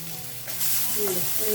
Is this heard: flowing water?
no